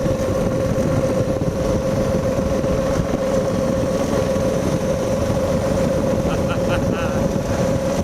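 A homemade rail speeder cart rolling along railroad tracks toward a trestle, giving a steady loud engine drone and rumble mixed with heavy wind buffeting, continuous throughout with a few faint tonal chirps near the end.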